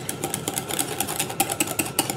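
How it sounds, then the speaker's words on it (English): An electric mixer whips cream with Baileys, a close, buzzing whir with a fast rhythmic rattle as the beaters knock through the bowl, steady and fairly loud with no talking. "so I got my electric mixer out"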